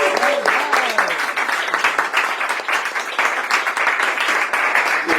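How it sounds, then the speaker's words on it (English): A live audience at an evening talk on voting reform gives a round of applause, dense and loud, steady from start to finish, with a brief voice at the very beginning. "big round of applause for Arn"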